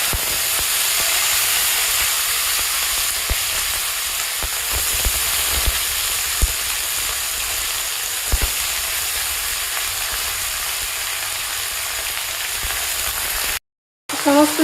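Vegetables fry in hot oil with black cumin, giving a loud, steady sizzle and hiss throughout, with a few stirring clatters and a short break near the end.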